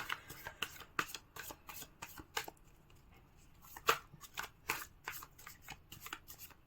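Tarot cards are shuffled by hand, close and quiet, in a rapid run of crisp riffling flicks with a few brief pauses and one sharper snap midway.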